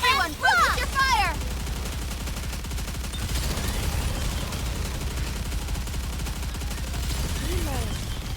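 Sustained gunfire in the video game NIKKE, a steady dense rattle of automatic shots under game sound effects and whooshing tones, holding loud for the whole stretch.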